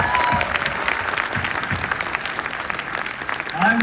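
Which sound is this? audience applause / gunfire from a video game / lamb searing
audience applause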